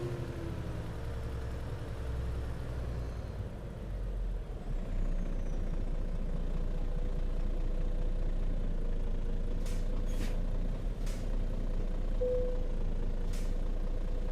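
A Freightliner Cascadia truck in American Truck Simulator rumbles low and steady, with a few short hissing bursts of air brakes near the end. No one talks over it.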